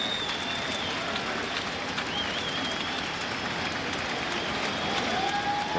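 Lively crowd buzzing in the stands at a Dodgers vs Mets baseball game, a dense, continuous murmur of voices and scattered claps that stays level throughout, with no commentary over it.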